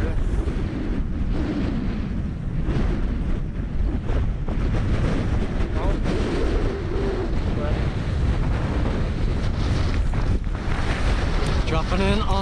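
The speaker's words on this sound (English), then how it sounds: "Oh, that is windy." Strong wind roars and buffets the microphone nonstop during a mountain bike race descent on an exposed Welsh hillside, a dense rushing noise with occasional voices underneath.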